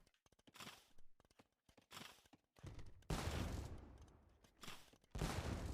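Organ guns firing in the Age of Empires II video game produce rapid crackling volleys. Clusters of sharp shots come in several bursts, each separated by brief gaps, and the later bursts grow denser and louder.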